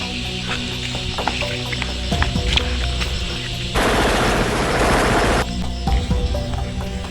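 Rapid bursts of gunfire crackle through a comedic fight scene in a Filipino skit, with a dense, sustained volley in the middle and scattered shots before and after, heard over background sound effects.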